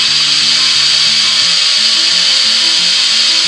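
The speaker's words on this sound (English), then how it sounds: "Bring the lathe up to speed" A wood lathe turning a woodturning bottle stopper runs at speed with a loud, steady whirring hum, its low motor tone shifting in pitch as it settles in.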